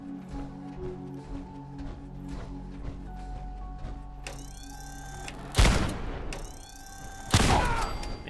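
Fallout 4 hipfire: sharp gunshots crack twice in quick bursts over a soft in-game background of faint clicks and hum, each shot loud and close with a short ringing tail.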